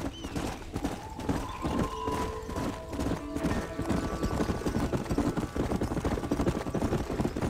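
Horses clip-clopping at a run through Red Dead Redemption, steady hoofbeats throughout with a brief whinny, over an orchestral game score.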